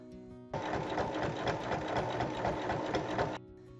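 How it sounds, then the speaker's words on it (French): A domestic sewing machine stitches a 1 mm seam in fabric, a close, rapid mechanical whirr with rhythmic needle clatter running for about three seconds before stopping, no talk. "Il faut ensuite faire une piqûre de chaque côté à 1 mm."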